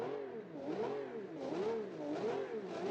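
A 1960s-style muscle car engine in the BeamNG driving game revs repeatedly, its pitch swooping up and down in quick rhythmic waves, heard alone at moderate volume.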